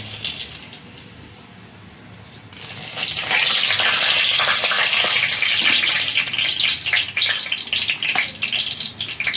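Three bay leaves dropped into hot oil for a mutton curry, starting quiet then erupting into a loud, continuous, close crackling sizzle that holds steady with slight fluctuations.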